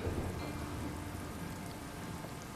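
Heavy storm rain in the Life Is Strange video game, a dense, steady hiss of downpour with a low thunder rumble underneath, loud and continuous throughout.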